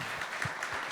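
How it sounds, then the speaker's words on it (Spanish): Applause from a church or seminar audience honoring two people at a personal finance talk, a steady dense wash of clapping filling the whole second with no voices. "Por favor, un aplauso súper fuerte a César y a Laura."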